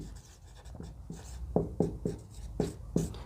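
A marker or chalk writes on a board during a class 10 maths lesson, making a rhythmic series of short scratchy strokes, about seven of them, close and clear against quiet room noise.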